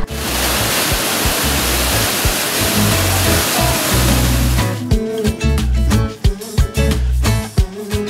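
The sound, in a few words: waterfall along the Seoul waterfront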